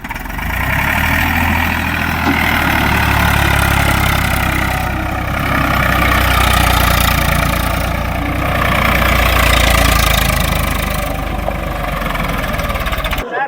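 An Escort 355 tractor engine idles steadily, a deep continuous rumble with a low throbbing pulse that holds at an even volume throughout.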